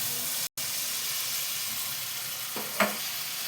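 Water from rinsing a spice-paste bowl sizzles in a frying pan holding Kashmiri chili powder, a steady hiss that breaks off briefly, then continues with a small clank near the end.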